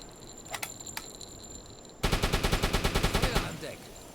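A U-boat deck gun fires in the Uboat video game, a fast burst of roughly a dozen loud, evenly spaced booming shots after a quieter stretch of faint clicks.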